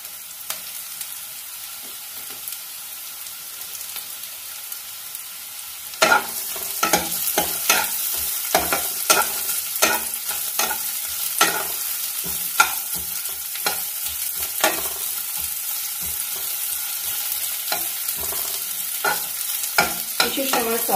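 Vegetables with carrot stir-fried for chicken mushroom thukpa: quiet low sizzle at first, then repeated sharp scraping and clattering strokes of a spoon in the pan over steady frying hiss.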